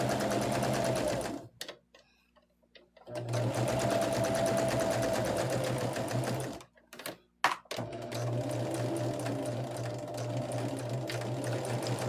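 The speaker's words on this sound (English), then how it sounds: "this is a great time to just, you know, backstitch to secure those seams" A sewing machine backstitches seams in a steady mechanical whir, running in sustained stretches broken by two short pauses where the needle stops, with no voices.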